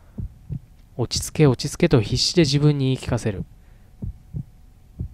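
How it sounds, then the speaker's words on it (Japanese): Pounding heartbeat from the horror mystery game Shin Kamaitachi no Yoru during a sudden blackout, soft regular low thumps spaced about a second apart, masked in the middle by a person speaking and returning alone at the end. "心臓が飛び出しそうなほどに脈打っていた。"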